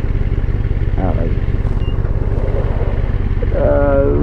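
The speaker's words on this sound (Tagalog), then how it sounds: "This is the QJ Motor SRK 600 RC or RR." A QJ Motor SRK 600 RC motorcycle engine idles with a steady, close low rumble and fast pulsing throb, while a person talks over it.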